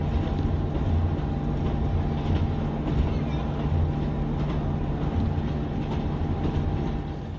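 A train on the Talyllyn line in Wales rumbles steadily along the track, a dense continuous roar with a faint clatter and no break.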